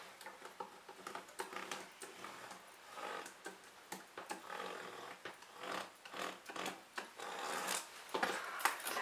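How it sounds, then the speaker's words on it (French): Repeated scratchy strokes of a marking tool drawn along the middle of a piece of fabric while cutting out a sports and weekend bag, close and fairly quiet, in uneven bursts with no talking. "je vais tracer une ligne sur le milieu ici,"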